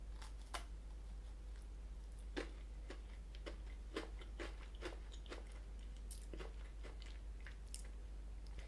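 An Oreo Coconut Thins cookie is bitten and chewed, with a series of crisp, close crunches spaced irregularly over a low steady hum.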